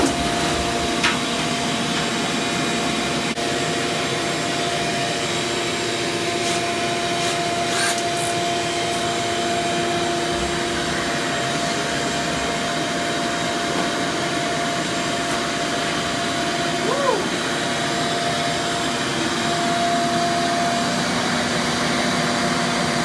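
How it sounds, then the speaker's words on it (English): A vacuum running throughout a dryer vent cleaning job, a steady, even motor whine and airflow roar with a few faint knocks and rubs along the way and no talking. "Here is a vacuum."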